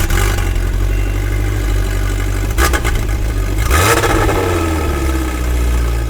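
Polaris Slingshot fitted with a Thermal front exit exhaust revs hard, a loud, close, continuous engine drone with two sharp throttle blips swelling and falling back toward idle.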